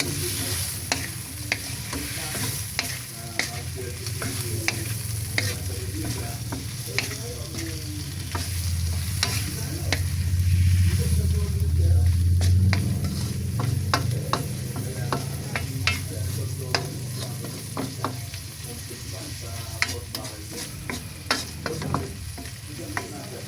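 Shrimp sizzle loudly in butter and garlic in a pan, a steady close frying hiss broken by frequent clinks and scrapes of stirring, with no talking.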